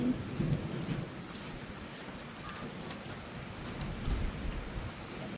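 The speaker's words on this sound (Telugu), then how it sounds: "Raining in Kerala." Steady rain pouring during a rainy day in Kerala, a continuous close hiss with low rumbling swells that may be distant thunder, and no talking.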